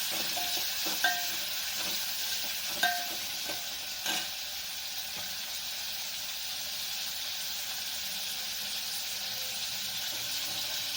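Tomatoes soften while frying in oil in a pan for sambar, giving a steady, bright hiss of sizzling throughout, with a few soft clinks and scrapes of stirring early on, close and moderately quiet.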